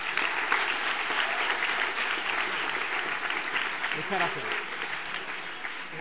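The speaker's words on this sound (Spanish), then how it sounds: "Muchísimas gracias, un fuerte aplauso." Audience applause fills a hall at a book award gala, steady clapping throughout with a voice speaking briefly over it.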